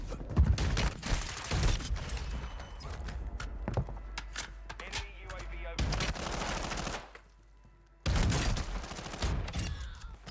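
Bryson 890 pump shotgun blasts in the game Warzone, loud booming shots in clusters with short gaps and a brief quiet pause before a final burst, backed by steady game noise.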